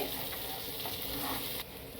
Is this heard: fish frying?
yes